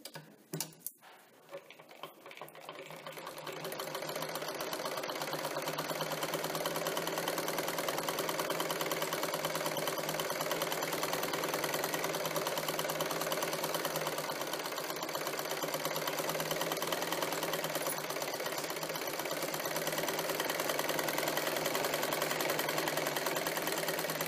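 A sewing machine stitches the inner piece of a single katori blouse in one long continuous run, a steady close mechanical whir with rapid ticking that starts after a few handling clicks and carries on alone.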